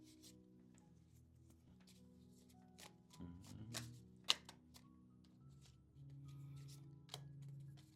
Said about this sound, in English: Do a few more shuffles.